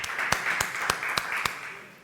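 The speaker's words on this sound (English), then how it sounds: "Give one round of applause for him." A conference audience gives a brief, faint round of applause for a sports law speaker, a thin patter of a few hands with distinct sharp claps, fading out at the end.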